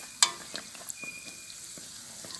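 Stuffed pies fry in medium-hot oil with a steady bright sizzle, a sharp spatter near the start, and a few soft stirring or ladling sounds.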